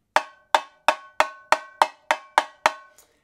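Nine steady, evenly spaced strikes of a wooden stick on a tamborim, each a sharp ringing crack that decays quickly, played alone at close range with no voices.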